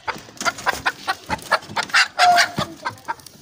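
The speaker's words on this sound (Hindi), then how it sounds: "और ये मुर्गी है एक, ये अंडे देती है हर रोज" Village hens at a small family home in rural Pakistan cluck in a quick, uneven run of close calls, with a louder drawn-out squawk partway through and a rooster among the birds.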